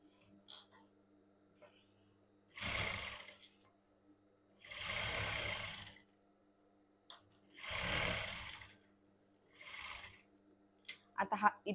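A sewing machine stitches cigarette pants in four short, loud runs of rapid needle clatter. Quiet pauses between the runs suggest the fabric is being repositioned.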